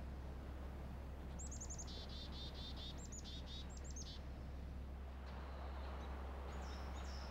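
Birds call in the woods, with bursts of rising chirps repeating in quick runs over steady low background noise, fairly clear and unaccompanied by voices.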